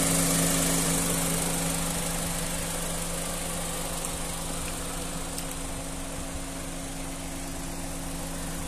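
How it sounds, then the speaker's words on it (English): A Honda Civic 1.8 i-VTEC petrol hatchback idles smoothly with a steady, even hum and low drone that holds without change, heard up close with no voices. "Smooth running engine."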